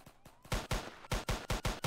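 Gunfire in the police game Emergency Response Liberty County, a rapid burst of loud close shots in quick succession, each a sharp crack with a short tail, after a few fainter pops at the start.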